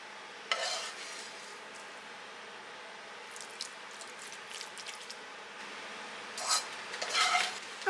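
Food for a Tex Mex meal is stirred in a pan with a utensil, giving soft scraping and light clinks over a quiet background, with a few sharper scrapes near the end.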